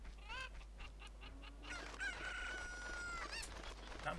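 Chickens clucking and a rooster crowing in The Legend of Zelda: Majora's Mask, a run of short clucks followed by a longer sustained crow, fairly close and heard alone without talk.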